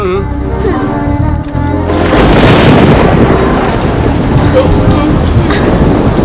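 Heavy rain pours down in a loud, dense, steady hiss beginning about two seconds in, after a short quieter stretch with tonal sounds.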